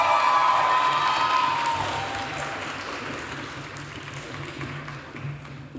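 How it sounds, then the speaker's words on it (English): A large crowd at a university graduation commencement cheers and applauds, with whoops and shrill shouts loudest at the start, then settles into steady clapping and chatter that gradually fades. "we'd like to thank all the cheering squads out there"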